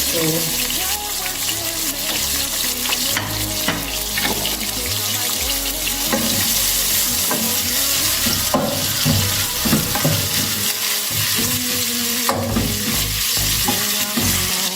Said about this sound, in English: so I will allow my onions to cook until they are caramelized